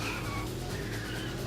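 A car in the video game Carmageddon skids and slides without stopping, giving a faint, continuous tire-scrub and engine noise that lasts under two seconds.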